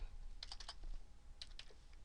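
Computer keyboard keys clatter in two quick bursts of several taps each, ending with a firmer keystroke like Enter, close and clear with no talking.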